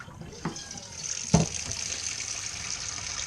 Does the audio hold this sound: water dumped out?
yes